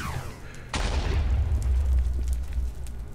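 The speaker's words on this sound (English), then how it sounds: "Nice big explosions." A deep video game explosion, from mining-laser quarrying in the Nether, bursts in and rolls into a long, rumbling tail with crackling debris, loud and close.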